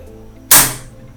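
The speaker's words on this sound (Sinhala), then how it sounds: "දැන් මම මේ ගෑස් එක ඔන් කරගන්නවා" A gas stove switched on and lit, heard as a single sharp igniting whoosh-pop that flares loud and fades over a fraction of a second, no talk.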